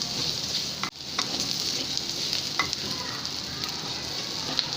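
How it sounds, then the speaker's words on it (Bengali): Ginger, garlic and chopped onion fry in hot oil, a continuous close sizzle with a few soft stirring scrapes and no talking. "এবার আমি এই আদা, রসুন এবং পেঁয়াজ কুচি হালকা একটু ভাজবো।"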